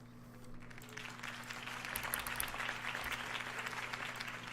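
Crowd applause after a campaign speech for Harvey Dent in Batman The Telltale Series, a steady dense wash of clapping that swells and holds over a low constant hum.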